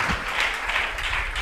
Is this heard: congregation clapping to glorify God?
yes